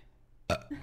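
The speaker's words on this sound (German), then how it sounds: "Wird hier nicht gerülpst, ja." A single short burp erupts abruptly, fairly loud and close against a quiet room, followed by a brief lower vocal tail, heard during a German-language gaming session of Dead by Daylight.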